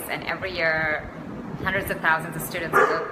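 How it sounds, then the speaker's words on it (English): A dog barks and yips indoors, several sharp bursts breaking in while a person keeps talking over them, the barks fairly close and loud. "Okay, that's my dog, and he gets mad at his own shadow."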